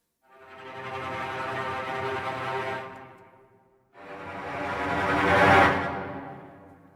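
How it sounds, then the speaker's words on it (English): Orchestral strings from the Spitfire Symphonic Strings library play tremolo sul ponticello, two sustained swells with a shimmering, glassy bowed texture, the second rising louder before fading, heard alone without talk. "tremolo sul ponticello. Usually the extended techniques I use the Spitfire symphonic strings"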